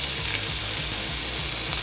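Cubed sweet potato frying in a pan with mustard seeds and dried red chilli for a sugar-free chutney, a steady close sizzle with faint rhythmic scraping ticks underneath.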